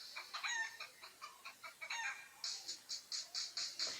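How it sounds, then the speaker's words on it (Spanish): A hen clucks and cackles in a quick series of short, bright, rhythmic calls, close and clear with no talking over it. "Dime si tú sabes cómo hace la gallina, vamos a escucharla tú y yo."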